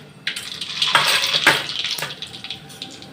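Mustard seeds hit hot oil while kanda poha is being made, giving bursts of sharp, hissing sizzle and crackle that swell and fade in waves at close range, with no voices.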